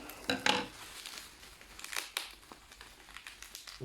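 Mail box packaging being cut open: papery crinkling and scissor-like snips come in a few close bursts, followed by softer rustling and faint scraping.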